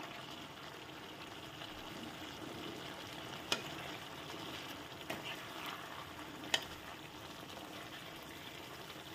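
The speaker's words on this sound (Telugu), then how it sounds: "ఈ నీళ్ళన్నీ ఎగిరిపోయి ఆయిల్ సెపరేట్ అయ్యే వరకు కొంచెం మనం ఫ్రై చేసుకుందాం" Mutton fries in oil in a pan as the water cooks off, a faint steady sizzle with a few small crackles and pops.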